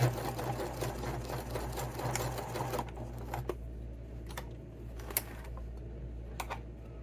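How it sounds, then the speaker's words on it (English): A sewing machine stitches a seam on a knit winter beanie or elf hat, whirring steadily up close for about three seconds, then pausing into quieter, intermittent clicks and short bursts of running. "I like to stitch right here in this seam"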